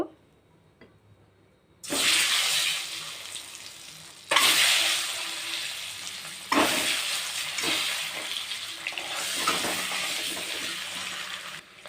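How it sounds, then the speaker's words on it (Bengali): Eggs hit hot oil seasoned with salt, turmeric and chili powder in a wok, bursting into loud, close sizzling that surges again as more go in, then settles into a continuous crackling fry. "তো এখন ডিমগুলো আমি ভেজে নেব"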